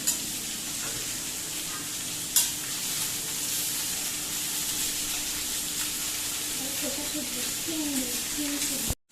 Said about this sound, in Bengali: এখানে হচ্ছে আমাদের মুড়ি খাওয়ার আলু ভাজা, যেখান থেকে অলরেডি ধোঁয়া বেরোনো শুরু হয়ে গেছে